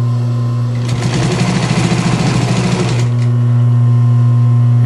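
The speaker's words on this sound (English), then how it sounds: "let's start sewing" A sewing machine stitches fabric in a loud, rapid, steady run of mechanical chatter lasting about two seconds, set against a constant low motor hum that continues before and after.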